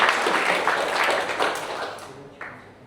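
Applause from a conference audience at a French tech talk, a dense patter of clapping that swells early, tapers off and fades out near the end.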